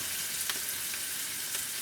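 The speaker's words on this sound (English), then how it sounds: "almost deep frying. It's spitting a little bit." Oil spitting in a pan while snacks are almost deep fried, a quiet continuous sizzle with a few sharper pops and crackles, close up and without talk.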